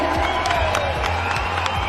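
Crowd applauding and cheering at a BJP public meeting in Tamil Nadu as the Prime Minister is welcomed, a sustained wash of clapping with a few whoops, under steady loud ambience.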